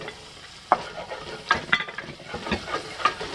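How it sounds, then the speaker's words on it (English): Garlic goes into onions already frying in a pan, giving a soft steady sizzle broken by several brief scraping stirs. "From here, I'm going to add the garlic"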